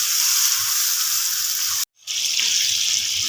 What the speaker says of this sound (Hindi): तकरीबन 6 से 7 मिनट के लिए मैं अच्छे से भूनूँगी ताकि जो टमाटर हैं वो अच्छे से गल जाए।